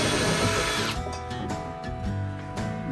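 A power drill whines loudly up close as it backs out deeply sunk screws from old repurposed wood, its motor pitch shifting and surging in short bursts as the bit grips and slips.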